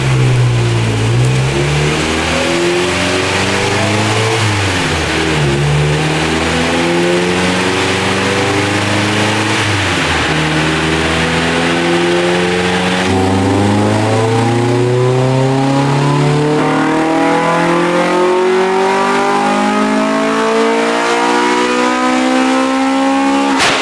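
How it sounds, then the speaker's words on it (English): A blue Honda Civic GSR hatchback with bolt-on modifications revs hard on a DynoJet dyno, its engine climbing through repeated loud pulls with rising and falling pitch, close and sustained, with no talking over it. "let's see what old blue does."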